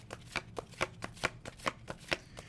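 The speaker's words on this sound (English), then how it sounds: "I shuffle the cards" A deck of playing cards being shuffled in a series of crisp riffle bursts, roughly seven sharp fluttering snaps at an even pace, close and fairly quiet, with no voices.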